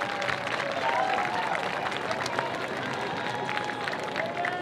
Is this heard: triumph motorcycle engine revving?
no